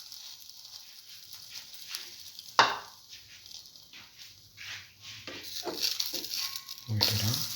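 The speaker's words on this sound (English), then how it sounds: "Now dip the next bread piece into the batter, egg tomato batter, and fry." Bread slices dipped in an egg and tomato batter fry in a pan with a steady close sizzle, joined by scraping and stirring noises as the pieces are moved around, growing louder toward the end.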